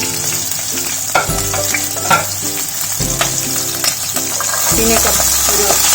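Green chilli and mixed vegetables frying in a pan over a high flame: a steady loud sizzle runs throughout, with intermittent stirring and scraping clatters.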